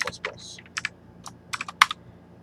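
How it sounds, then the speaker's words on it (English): Quick bursts of keystrokes on a computer keyboard while code is entered, irregular clusters of close, crisp clicks with short pauses between them. "If I could just type that out."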